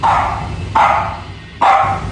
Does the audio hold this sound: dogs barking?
yes